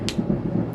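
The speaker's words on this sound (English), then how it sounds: "the thunder is distracting me." Low rumbling thunder rolls through a storm, a steady deep rumble swelling in a few soft pulses, heard indoors over faint rain.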